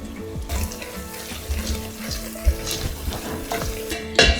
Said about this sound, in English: You can let this fry for a bit.